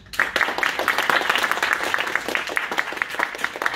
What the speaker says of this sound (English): A big round of applause for all our contributors.